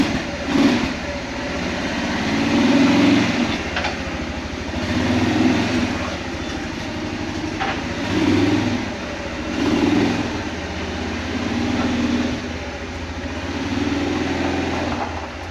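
Freshly rebuilt Kawasaki Prairie 400 ATV engine idling close by, a steady mechanical putter with slow swells in loudness, running alone without voices.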